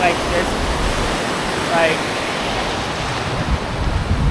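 Ocean waves breaking on a beach where anglers fish a striped bass blitz, a steady loud roar of surf with wind buffeting the microphone throughout.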